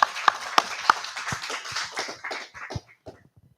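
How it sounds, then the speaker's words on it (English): Audience applause at a gathering that praises the Most High God of Abraham, Isaac, and Jacob: a short, sharp burst of claps that thins out and fades over a few seconds. "let's give the sister another round of applause"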